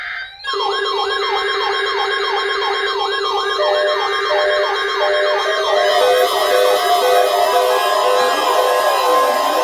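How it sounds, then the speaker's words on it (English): An emergency alert weather radio test from NOAA station KEC63 in Michigan plays loud electronic warbling tones that shift into steady and pulsing beeps, filling the whole span without speech. "The preceding signal weather test of the public warning alarm system for all hazards radio station KEC63"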